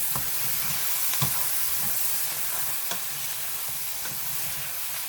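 Chicken stew for a Nicaraguan orange chicken dish is stirred in a sizzling pan: rhythmic scrapes and soft knocks of a spoon over a constant close hiss, with no voices.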